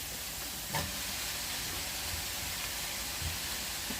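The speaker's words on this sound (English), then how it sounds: "Fry this for about 30 seconds, fry this for about a couple of minutes or so" Mushrooms and garlic fry for beef chow mein in a pan, giving a steady, close, broadband sizzling hiss throughout, with a few faint knocks.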